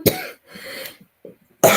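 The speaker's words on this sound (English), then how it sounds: "I coughed right at the computer too" A sharp cough bursts out close by, then a short pause with soft breathy noises, followed by another loud cough at the end.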